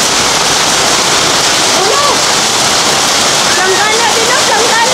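Heavy rain pours down with floodwater rushing and flowing nearby in the Philippines, a loud, dense, continuous wash of water, with faint voices and calls mixed in toward the end.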